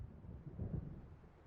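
Faint, low rumble of distant thunder building in the night setting of Alan Wake, swelling briefly in the middle before fading.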